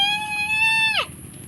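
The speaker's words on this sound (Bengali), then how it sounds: "ছাগলের বাচ্চা দিয়েছে।" A single goat gives one loud, close, drawn-out bleat that ends with a sharp downward drop. It is followed by quiet background noise.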